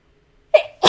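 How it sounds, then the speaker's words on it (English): One sharp, close sneeze bursts out after a short silence, followed by a breathy exhale or start of a second burst. "Sorry, had to sneeze."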